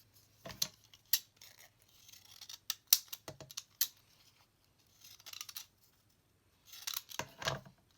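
Scissors snip through thick paper scraps used with wet white glue, in short bursts of crisp close cuts separated by pauses, no voices.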